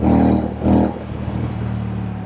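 A Royal Enfield Shotgun 650 motorcycle fitted with AEW exhaust pipes, given two sharp throttle blips that roar loudly and close, then settling into a throbbing idle.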